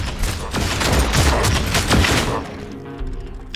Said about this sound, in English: Here we go, artillery ready.